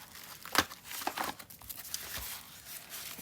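Wrapped diamond painting drill sampler packs crinkle and tear as they are cut open, giving a few close, quiet bursts of crackling plastic with soft rustling between them.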